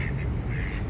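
A white duck quacking outdoors, a quick run of harsh, nasal quacks up close, loud and alone over a brief moment.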